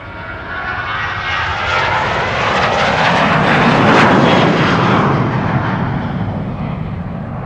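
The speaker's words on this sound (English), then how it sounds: "we have KLM flight 927 to Edinburgh taking off here" A 24-year-old KLM Boeing 737-800 jet taking off at Amsterdam Schiphol Airport, its engines a loud, steady roar that swells toward the middle and eases slightly as it passes, with no voices.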